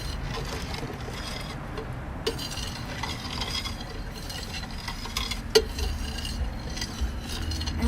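Stirring plant nutrients into water for a homemade hydroponic system, with soft swishing and scraping of a utensil and occasional light clinks against the container.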